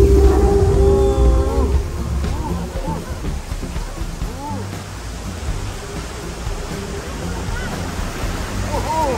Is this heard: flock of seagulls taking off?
no